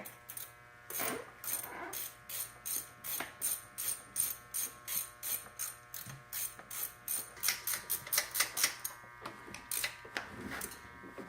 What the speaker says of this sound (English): I'm just gonna finish these off with a ratcheting wrench.